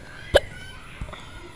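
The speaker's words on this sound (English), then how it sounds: "Sorry guys, I got the hiccups today." One sharp, close hiccup is followed a moment later by a softer second one. Each is a brief vocal jolt against a quiet background.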